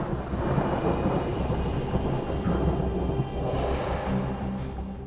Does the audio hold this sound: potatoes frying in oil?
no